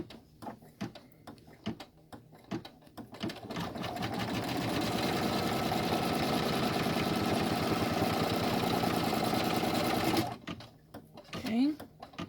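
An embroidery sewing machine stitches down a piece of a double zip splash bag, a loud rapid mechanical whir that runs steadily for several seconds and then stops. Light handling noises come before and after, and a person talks in the clip.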